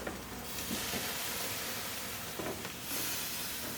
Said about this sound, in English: our cedar plank is getting all nice and warm